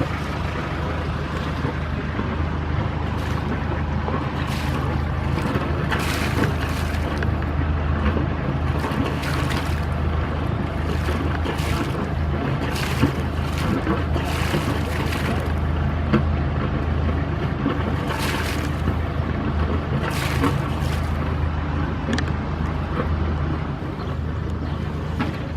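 An Aquanaut 950 AK motor boat's engine runs steadily with a deep, constant rumble and exhaust burble, plus intermittent splashy hissing bursts, continuous throughout.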